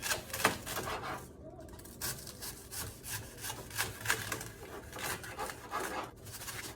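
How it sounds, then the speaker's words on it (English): A struggling knife saws and crunches through a head of cabbage for fried cabbage, giving repeated rough scraping strokes, close and moderately loud, with no talking. "Let's cut our cabbage this way."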